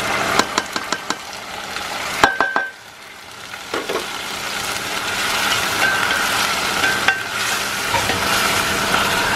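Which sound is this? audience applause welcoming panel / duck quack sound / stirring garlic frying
stirring garlic frying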